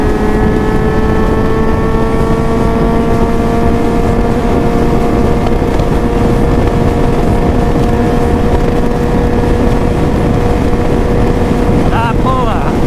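Suzuki GSX-S750 motorcycle fitted with a full Ezaki SC Project exhaust, its engine holding a loud, steady drone that climbs slowly in pitch while heavy wind buffets the microphone throughout.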